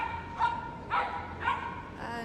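A miniature poodle at a dog agility event gives three sharp, high yapping barks spaced about half a second apart, followed by a softer fourth, heard fairly close over a low background murmur.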